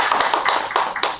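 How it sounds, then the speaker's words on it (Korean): Audience applause at a 2021 Daejeon sustainable development seminar, heard as a short run of sharp, evenly spaced claps in a fairly close, moderately loud burst with no talking. "박수로 한번 맞아주세요."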